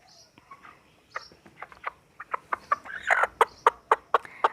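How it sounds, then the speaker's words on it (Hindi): A desi hen clucks in a quickening series of short, sharp calls that grow louder and denser toward the end, close by with no talk over it. "आप देख सकते हैं कि ये हमारी मुर्गी है।"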